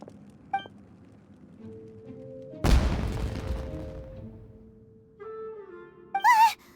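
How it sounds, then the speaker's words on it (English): In the video game Genshin Impact, a firework bursts with a sharp boom that fades into crackling rumble, set among quiet game tones and a brief chirpy effect at the end. "Was that an explosion? It sounded like fireworks."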